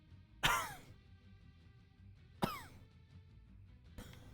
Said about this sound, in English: You could hear your men coughing